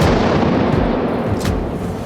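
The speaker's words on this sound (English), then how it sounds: "Пострел!" Artillery gun firing in a combat setting in Ukraine, a loud, sustained booming blast that fills the whole clip with dense low rumble and no talk.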